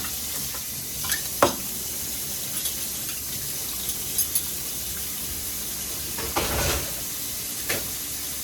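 Goulash sauce bubbling in a cooking pot on the stove, a steady close hiss and sizzle with occasional soft pops and stirring scrapes, no voices.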